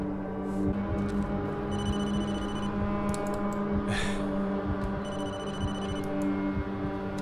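A telephone rings repeatedly in the Blair Witch video game, its electronic ring bursts recurring over a steady low ambient drone and game atmosphere, with no voices.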